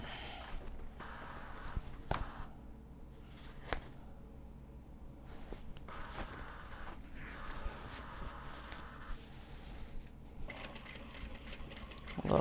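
A sewing machine works on welt pockets in a home sewing session, giving a steady close hum with intermittent clicks and knocks from handling, no speech over it.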